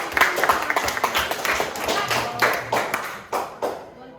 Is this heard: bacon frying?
no